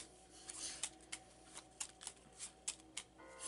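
A deck of cards riffled and shuffled during a tabletop board game session, a run of quick soft flutters and snaps repeating close by, quiet, no speech.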